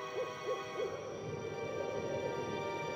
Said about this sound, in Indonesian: Suara burung hantu mulai terdengar jarang-jarang.